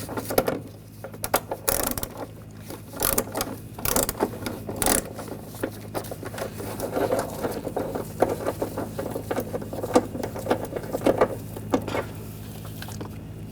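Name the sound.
removing a nut with a 13mm socket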